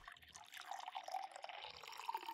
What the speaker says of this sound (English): And just water filling into the cup.